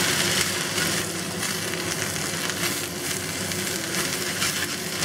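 Chrysanthemum leaves (tong ho) stir-fried with garlic in a hot wok, a steady loud sizzle with crackling and occasional scraping stirs, continuous and close with no voices.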